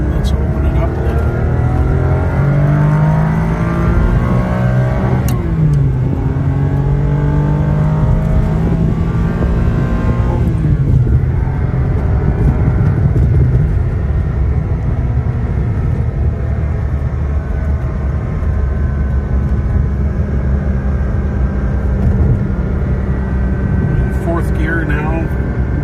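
A 1999 Ferrari 550 Maranello accelerating up a highway on-ramp, its engine a loud, continuous droning roar with rising and falling pitch as it climbs through gears, heard from inside the cabin while someone talks over it.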